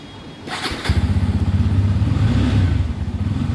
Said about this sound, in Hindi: आवाज़ सुनिए आप बाइक की।